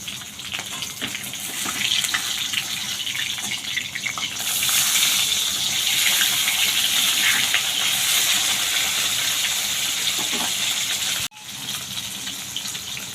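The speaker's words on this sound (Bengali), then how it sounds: "টিনের চালে বৃষ্টির আওয়াজ একটু বেশিই হয়।" Heavy rain pours onto a tin roof as a loud, continuous rushing roar that swells midway and briefly cuts out near the end before resuming.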